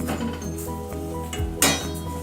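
Thinai millet and moong dal being dry-roasted in a metal kadai: light scraping and clinking of a utensil against the pan, with one sharper, louder clank near the end.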